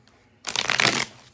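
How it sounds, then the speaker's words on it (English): A deck of playing cards riffle-shuffled once, a dense close burst of rapid fluttering clicks lasting about half a second after a quiet start. "usually y'all see me shuffle these cards before"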